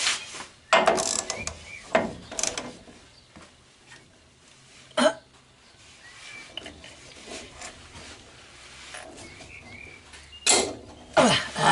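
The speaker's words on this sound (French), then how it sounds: "je vais vérifier quand même avec la clé." A wrench works on chassis bolts at the rear axle of a Citroën Traction 11B, giving a few separate sharp metallic clicks and ratchet bursts spread through quiet workshop pauses, close by and unaccompanied by speech.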